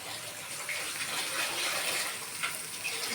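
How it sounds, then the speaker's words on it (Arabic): Water poured into a seasoning mix of cumin and other spices for oven-grilled fish, a steady broadband splashing gush that runs continuously at moderate, close level. "وهنحط لها المية"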